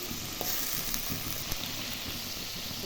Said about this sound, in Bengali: আদা জিরা এখন একটু ভাজা ভাজা সামান্য লবণ দিয়ে দিলাম